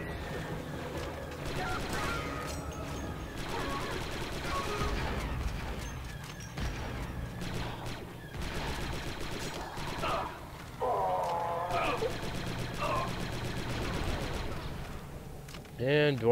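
Turret gunfire in the Star Wars Republic Commando video game, bursts of shots over busy combat noise and game effects, with a commentator talking throughout.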